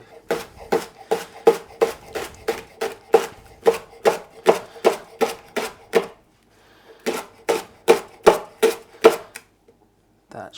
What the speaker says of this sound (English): so I'll just cut those into little rings